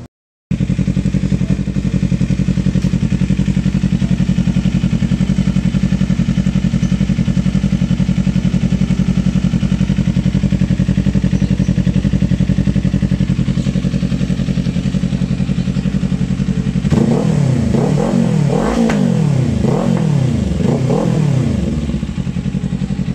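A 2025 Kawasaki Eliminator 450 fitted with an M4 exhaust idles loudly and steadily up close, then is revved several times in quick succession near the end.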